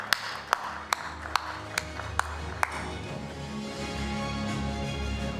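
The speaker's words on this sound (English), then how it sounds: "Huge round of applause for Mr. Amit Tripathi." At an automotive awards ceremony in India, six sharp, evenly spaced claps ring out, then a steady, broad wash of crowd noise takes over at moderate loudness.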